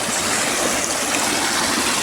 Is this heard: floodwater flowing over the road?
yes